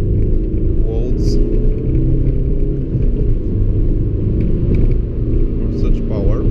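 An Audi A3 8L with a 1.9 TDI ALH diesel engine, remapped from 90 to about 155 hp, drives on an extra-urban road with a steady loud engine and road rumble heard from inside, under intermittent talk.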